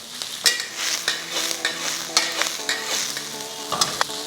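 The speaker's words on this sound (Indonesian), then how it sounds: "ini kita tumis sampai layu" Ingredients for kimchi fried rice being stir-fried in a pan, a lively close sizzle broken by repeated sharp spatula scrapes and taps against the pan.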